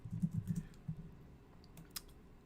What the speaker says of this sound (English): Oh, man, typing stuff wrong.